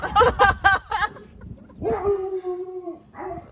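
Indoor dog gives a few quick barks followed by longer drawn-out howling whines, close by, with no speech over it.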